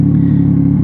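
A 2021 Yamaha XSR900 motorcycle warming up after sitting unused, a loud, steady low idle rumble held close and unbroken.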